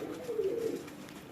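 Crossbred pigeons, a cross of golden and Ali-wala birds, give a soft, low, rolling coo close by, one brief murmuring phrase with no talk over it.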